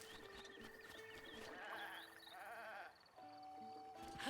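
Goats in The Legend of Zelda: Breath of the Wild bleat several times in game audio, wavering calls over steady background music with chimes and tones, fairly close and clear, with no talking.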